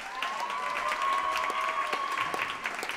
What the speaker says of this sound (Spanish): A Julia, que también es de Alemania, y que un aplauso para ella.